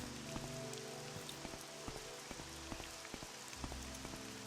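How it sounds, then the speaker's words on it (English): Heavy rain pours down steadily in Morrowind, a dense even wash of drops with scattered sharper patters, faint and with no voices. "it's chucking it down with rain"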